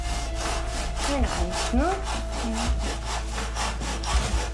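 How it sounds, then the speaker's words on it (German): Hand sawing through a hardwood bed frame, a steady back-and-forth rasp of repeated strokes, loud and close, with brief speech over it. "Beim Sägen war natürlich eine sehr schweißtreibende Arbeit gewesen, dadurch, dass das Bett aus Hartholz bestanden hat."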